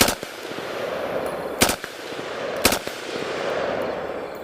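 Machine gun fire rings out in a Thai audio drama set around a Khmer Rouge base, two sharp loud bursts about a second apart over a dull, rumbling background.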